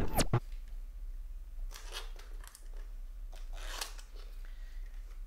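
The box of a Royal Kludge RK N80 Bluetooth mechanical keyboard being unboxed, with a sharp snip at the start, then scattered rustling, scraping and crinkling of packaging, close and irregular.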